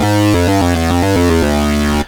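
A loud, buzzy synthesizer patch on a Korg workstation plays a fast run of stepping notes then holds one, its tone swirling and sweeping with a wide, wobbling stereo flanger shimmer.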